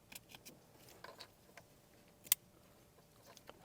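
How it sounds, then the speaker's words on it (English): A wiring harness pin connector snapping into a car radio plug during a 2005-2015 Toyota Tacoma stereo upgrade, with a single sharp click amid faint handling ticks and rustles, quiet and close. "This pin right here, this will clip in just like this."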